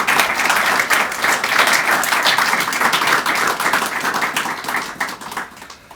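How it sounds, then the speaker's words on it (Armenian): Steady applause from an audience at the launch of Taron Glak's poetry book "Veratsnvir", dense and continuous for about five seconds before tapering off near the end. "կարող եք ծափ տալ ինչպես պայմանավորվել"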